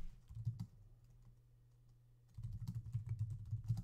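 Rapid keystrokes on a computer keyboard typing a search query, close and fairly faint, in two bursts separated by a brief pause, with no talking.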